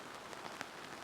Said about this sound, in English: the rain was just starting to come down